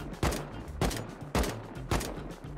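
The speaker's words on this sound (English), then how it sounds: "I died to the fucking expo ammo fire." Explosive-ammo gunfire in a survival video game: four sharp, loud blasts at an even, roughly half-second rhythm, each trailing off briefly before the next.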